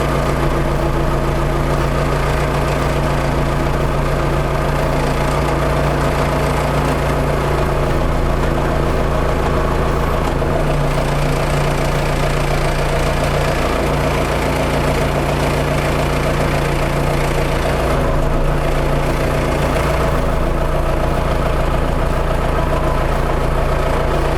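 A DTZ 504 tractor's diesel engine idles steadily and close by, a low rumbling drone with a constant hum that runs unchanged throughout.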